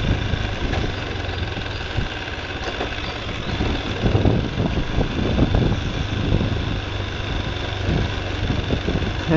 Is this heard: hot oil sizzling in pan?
no